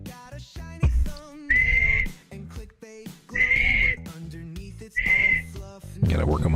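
A person whistles three short sustained tones, each held for about half a second, spaced by quiet gaps with faint clunks and background noise in between.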